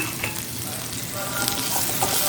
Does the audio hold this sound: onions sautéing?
yes